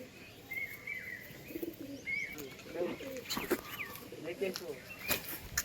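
Foreign pigeons in a loft give soft, faint cooing and brief chirps, with a wing flutter or two, while a person talks over them.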